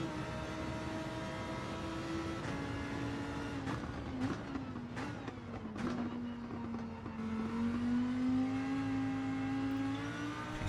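Nissan GT-R race car in Gran Turismo 7 on the Dragon Trail Seaside circuit, its engine droning steadily throughout with pitch dips and rises through gear changes and corners, loud and close with no talk.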